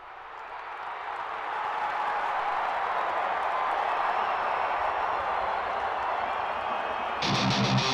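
Recorded crowd noise for a track plays back through a Pro Tools live jam setup as a steady, dense roar of cheering and applause that holds level for several seconds before a brief electronic tone cuts in at the end.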